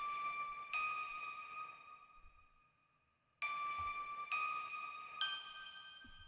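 Layered bell melody tones with reverb and effects ring out in bright, chiming struck notes that sustain and slowly fade, with fresh strikes arriving in small clusters; faint and alone, with no voices.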